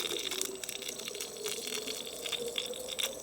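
Water streaming from a weight-based filling machine into a bag-in-box container, a steady close hiss and gurgle of liquid running without pause.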